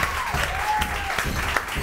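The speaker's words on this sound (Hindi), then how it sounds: "जोर से तालियां।" Studio audience applause on a live morning talk show, a steady dense clapping that fills the whole clip without talk.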